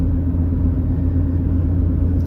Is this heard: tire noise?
yes